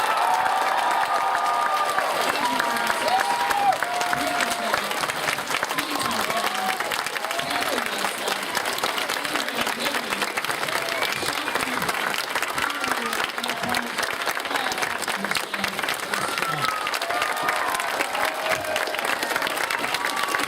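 Convention panel audience applauding voice actors, a long, steady wave of clapping and some cheering from a large crowd, with voices audible through it.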